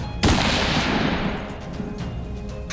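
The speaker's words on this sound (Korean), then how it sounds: "갑작스러운 총성을 듣게 됩니다." One sudden gunshot rings out inside a hospital, a loud sharp crack that opens the clip and then trails off in a long, echoing decay.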